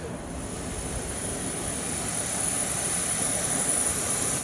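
Steady, loud roar of a large jet airliner's engines at an airport, a continuous broadband rush with a thin high whine on top, holding level throughout with no talk.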